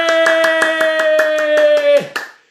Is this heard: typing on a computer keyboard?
no